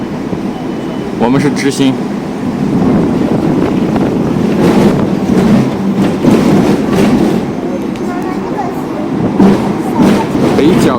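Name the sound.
Hong Kong electric tram (ding ding) riding on tracks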